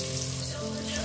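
Chopped onion frying in oil and ghee with shahi jeera for pulao, a steady, close sizzle that fills the moment without pause.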